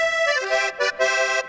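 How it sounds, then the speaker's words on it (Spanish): An accordion sample in Kontakt, played from a keyboard for vallenato music, gives a short, bright, reedy melodic phrase of a few sustained notes with brief breaks between them. "Entonces el acordeón suena más o menos así."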